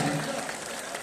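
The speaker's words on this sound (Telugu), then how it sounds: "మహానుభావుడు అయ్యప్ప స్వామి వారు రాసినటువంటి వారిని ఒకసారి అందరం కూడా చప్పట్లు కొడతాం" An audience at an Ayyappa devotional gathering applauds the author of a song, soft and brief clapping from a distant crowd beneath ongoing talk.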